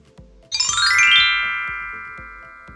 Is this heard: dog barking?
no